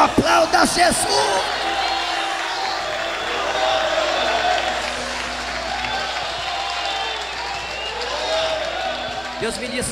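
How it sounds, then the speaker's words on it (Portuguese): A church congregation applauds and cheers during a live worship service, a steady broad roar of clapping and voices filling the room with louder bursts at the start and end. "Aplauda Jesus!"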